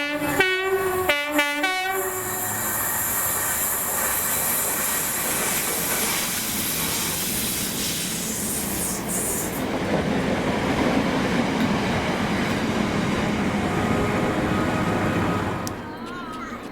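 A Scotrail Class 320 electric multiple unit at Jordanhill passes close by, opening with loud repeated horn blasts before a sustained roar of rolling wheels and rail noise, fading slightly near the end.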